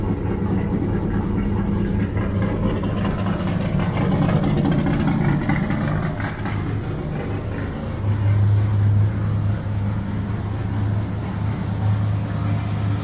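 Car engine running a steady idle after tuning with Holley EFI, a continuous low rumble that stays loud and even throughout with no voices.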